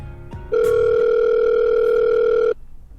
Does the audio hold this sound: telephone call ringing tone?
yes